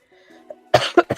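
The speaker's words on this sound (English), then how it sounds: "I still have a little bit of a cough" Three sharp coughs in quick succession, close and fairly loud, after a quiet stretch with a faint low hum.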